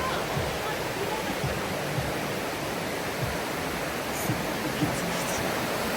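A constant rushing wash of a flowing river fills the scene, steady and broadband, with faint occasional thumps underneath.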